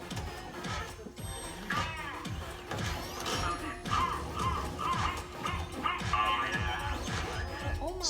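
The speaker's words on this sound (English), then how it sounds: "I think I'll check in on my dog, Indy." A pet dog barks and yips repeatedly in a home, with clatter and mechanical noise mixed in, fairly loud throughout.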